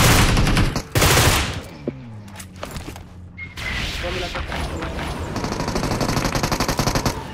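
Loud PUBG Mobile gunfire cracks out in sharp shots and rapid bursts, with a few heavy blasts up front and steady rattling fire later, as players talk over it.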